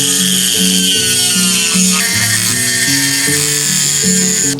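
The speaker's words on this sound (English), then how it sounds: "I got my trusty Dremel." A Dremel rotary tool grinds at a welded-in baffle bolt on a Leo Vince exhaust from a Yamaha R6, a loud, steady high whine with shifting pitch running continuously throughout.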